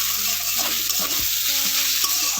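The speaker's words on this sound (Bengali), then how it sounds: "ভালো করে কষিয়ে নেব।" A steady, close sizzle of frying in a pan for aloo dum, broken by soft spatula scrapes and stirring knocks.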